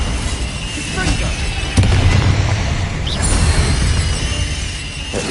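A Confringo spell explodes in Hogwarts Legacy with booming, crackling blasts among dense battle effects, with a sharp impact near the middle and a voice shouting over the din.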